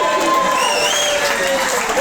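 Wedding party guests clapping together, a steady dense wash of applause filling the whole moment, loud and close with crowd noise mixed in.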